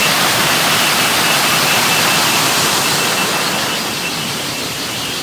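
A shallow stream in Wayanad runs in a loud, dense, unbroken rush of water, steady from start to finish with no voices.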